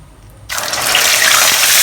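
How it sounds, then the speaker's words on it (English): Chicken hits very hot oil for a second fry, bursting into a loud, rushing sizzle that starts abruptly after a quiet moment and keeps building. "Now you'll see a lot of bubbles, or rather the oil getting very hot."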